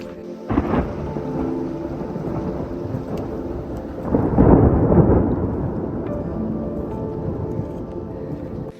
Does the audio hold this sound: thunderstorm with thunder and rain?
yes